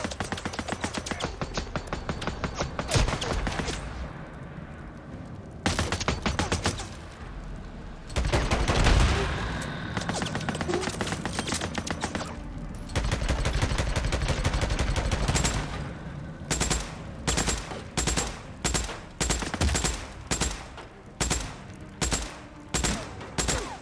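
Sniper fire and gunfire in the video game Days Gone, with dense bursts of rapid shots early on, then a pause and a long run of sharp, evenly spaced loud shots toward the end.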